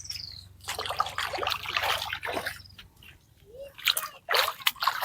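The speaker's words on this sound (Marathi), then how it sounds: "इथं बघा पाणी आहे तर आता आम्ही इथं पाय धुतो" Water trickles and splashes as feet are washed outdoors near a Mahadev temple after walking through mud. It comes in close, uneven bursts with short quiet gaps, and faint bird calls sound in the background.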